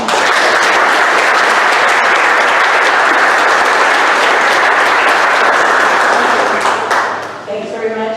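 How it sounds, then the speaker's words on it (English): Loud, sustained applause from a large audience at a Hall of Fame introduction, thick clapping that holds steady before tapering off at the end, with a voice starting to speak. "So give her a big round of applause."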